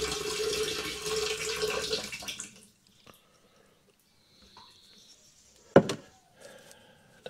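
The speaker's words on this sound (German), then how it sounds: "Das verdünnen wir jetzt, indem wir jetzt die 100 Liter auf dem Tank voll machen." Water runs steadily into a motorhome's fresh-water tank for about two seconds, then stops, leaving near silence broken by a sharp clunk and faint drips.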